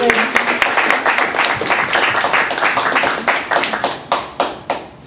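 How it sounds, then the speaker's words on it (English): A small group applauds, rapid overlapping claps that thin out toward the end into a few separate, sharper claps. "round of applause"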